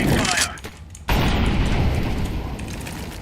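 An incendiary fire grenade is thrown in a mobile shooter game: a dense, roaring burst erupts after a brief lull, then rolls on as a loud, continuous crackle amid busy battle noise.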